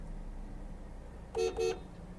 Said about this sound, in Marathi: हा हॉर्न आहे